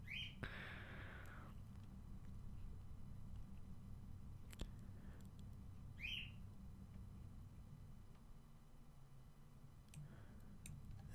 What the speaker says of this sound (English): on the background you're hearing my bird. He's want to say hi.